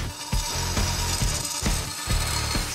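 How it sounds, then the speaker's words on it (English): A big hammer pounds a steel car body panel in a workshop, giving about six loud, ringing metallic blows at an uneven pace with no talk. "You gotta use a big hammer."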